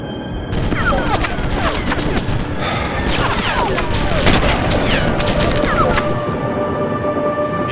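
Continuous heavy gunfire in the video game Sniper Elite, dense overlapping rifle and machine-gun bursts with booms, loud and sustained throughout, with scattered background voices.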